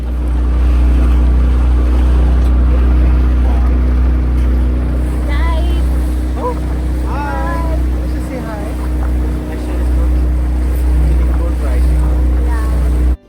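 A tour boat's engine drones loudly and steadily on flat open sea off Lagos, Portugal, near Ponta da Piedade, with wind buffeting and voices talking faintly underneath.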